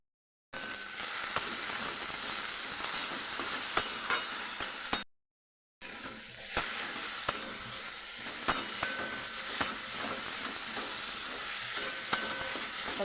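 Onion and ginger paste frying in a pan while being stirred, a continuous close sizzling hiss with scattered scrapes and clinks of the spoon, briefly cut off partway, with no voices.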